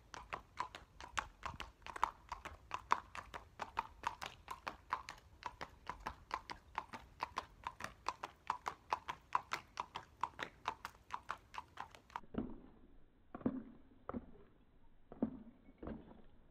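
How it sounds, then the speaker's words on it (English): A Tennessee Walking Horse gaits with an overreaching hind stride, its hooves clip-clopping in a quick, steady, even beat that carries on for some time, then thins out into a few louder, spaced footfalls near the end. "propelling itself forward, it overreaches with its hind legs over the front hoof prints."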